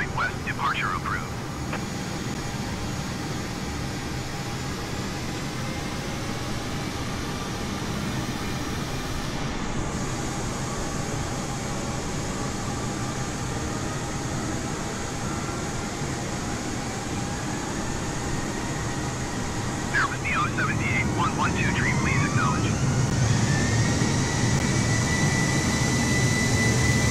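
Airbus A320neo in a flight simulator takes off from London Heathrow runway 27 right, a steady loud jet engine roar and rumble holding throughout, with brief radio chatter and a shift in tone partway.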